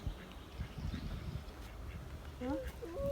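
A few nasal duck quacks near the end, over low outdoor rumble and a voice talking nearby, at a Center Parcs holiday park.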